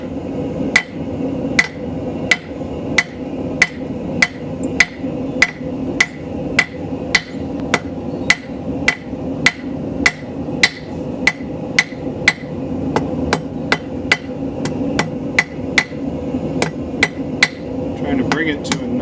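A hammer forges a taper on hot metal, striking in a steady, evenly spaced rhythm of sharp, ringing blows, roughly one per half-second, close and loud over a low background hum.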